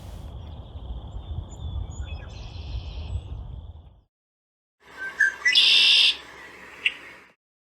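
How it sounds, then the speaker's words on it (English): After a quiet stretch of low background rumble, a red-winged blackbird calls nearby with a short burst of bright, buzzy, trilling song. "if we're near water in the spring, we're sure to hear the red-winged blackbird"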